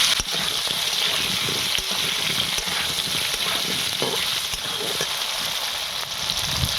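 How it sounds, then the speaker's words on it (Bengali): Potatoes fry in hot oil with turmeric and salt, a steady dense sizzle with occasional stirring scrapes, close and continuous without talk. "ভালো করে লাল লাল করে আলুটা ভেজে নেব।"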